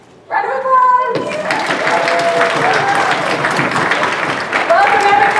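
Convention audience at a panel seminar breaks into loud applause after a brief moment of quiet, dense clapping filling the room with a voice briefly audible over it.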